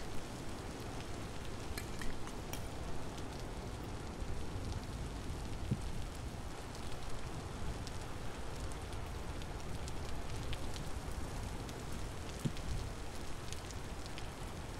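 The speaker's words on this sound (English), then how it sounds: "It has been raining for a week also. Is this rain ever gonna stop?" Steady rain pours down throughout in the survival video game Vintage Story, a continuous dense hiss with scattered drop ticks, even and unbroken, with no talking.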